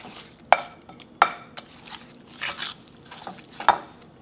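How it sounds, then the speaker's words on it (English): Pomegranate seeds are being mixed with sugar in a bowl, giving a few sharp clinks of a utensil against the container between soft, wet stirring and sloshing sounds, close and irregular. "And then sugar and mix well."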